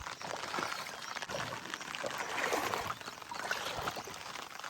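Floodwater after a full day of heavy rain pouring into a freshly sown rice paddy and a knee-deep drain, a steady, fairly faint rushing wash that swells slightly in places and carries on unbroken with no talk.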